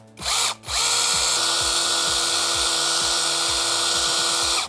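A Procraft PKA 32 Li cordless battery chainsaw runs steadily at close range to spread its chain oil, a continuous high motor whine with a rattling chain, cutting out briefly near the start before holding on alone.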